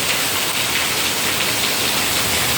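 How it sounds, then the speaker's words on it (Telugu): Heavy monsoon rain pours down outside an apartment in a steady, dense, close hiss with no pauses and no talking. "అంటే అంత ఫుల్గా పడుతుంది వాన."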